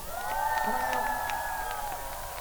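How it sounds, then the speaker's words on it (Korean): A concert crowd at a Daejeon festival evening show cheers steadily with sustained whoops and shouts, loud and continuous throughout, with no clear individual voice speaking. "여러분 큰 박수 한번 주십시오"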